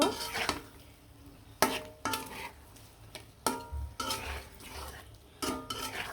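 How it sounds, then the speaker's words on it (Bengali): Hilsa fish heads are stirred in a pan with spices, a utensil scraping and clanking against the metal in irregular strokes over a faint background sizzle. "মাছের মাথাটা কিন্তু আমি আগে কষিয়ে নিব"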